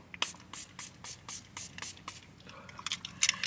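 A series of short, sharp face mist spray bursts, about a dozen in quick succession, the puffs crowding closer and louder toward the end.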